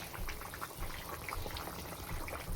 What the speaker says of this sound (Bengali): ঝোলটা ভালো করে ফুটছে টকবক করে